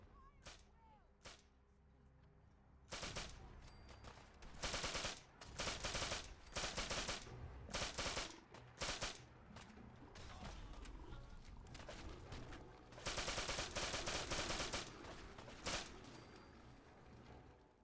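Gunfire in the video game Fallout 4 Far Harbor: after a few isolated shots, a sustained firefight follows, with rapid bursts and overlapping loud cracks that are close and intense, and no voices are heard.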